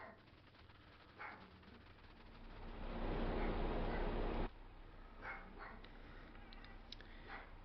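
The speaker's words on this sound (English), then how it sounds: "that would be a Chihuahua." A small Chihuahua barks faintly in the background in several short, sharp yips, partly buried under a louder machine-like rumble from a farming game.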